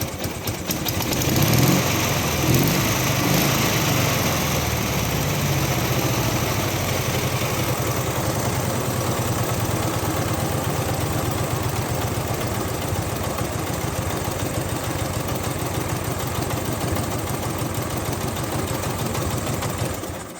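Dnepr MT-11 motorcycle engine runs continuously after a quick repair, idling with a slightly uneven, faltering beat, loud and close with no talk.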